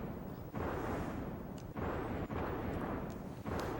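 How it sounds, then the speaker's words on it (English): A loud explosion rumbles in the video game Secret of Evermore, a broad, sustained booming roar broken by brief dips and fresh bursts over about four seconds, with no voices. "You should probably lower the noise a bit because the explosion gets really loud."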